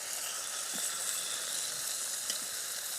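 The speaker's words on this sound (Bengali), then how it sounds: "আস্তে আস্তে ভাজি, তো এটার আবার কাইটটা ভাজি" Pieces of fresh pond fish fry on a pan outdoors in a village, giving a continuous soft, even sizzle and hiss with a few faint taps, and no talk.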